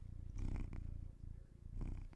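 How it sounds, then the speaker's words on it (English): A female cat purring right against a microphone, a close, steady rumbling purr that swells and eases with each breath. "Can you hear her purring?"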